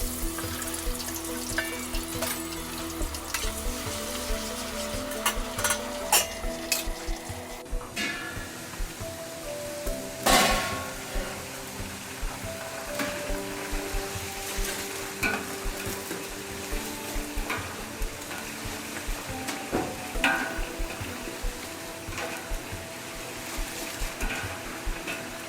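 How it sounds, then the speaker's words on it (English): Chopped potatoes frying in hot oil while cooking a Turkish lamb tas kebab, a steady sizzle running throughout with a few sharp clatters of stirring and utensils, no talking. "Add the chopped potatoes to the hot frying oil."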